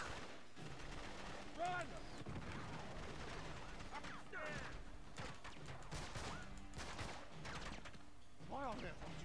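Gunfire in Uncharted 3 crackles through a busy firefight, with repeated shots and bursts scattered over several seconds while voices shout briefly.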